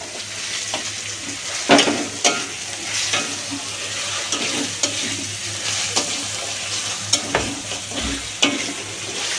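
Tomato dropped into a hot pan and stirred for a Bengali sweet chicken, a steady close sizzle with periodic scraping strokes and a few louder knocks, no talking.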